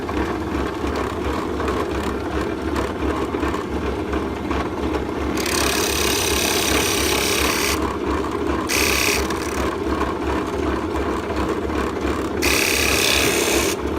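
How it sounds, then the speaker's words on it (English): An electric drill bores into a piece of wood for fidget spinner buttons, a steady motor drone with harsh bursts of high grinding as the bit cuts, loud and close. "Turn on the drill and let's drill away."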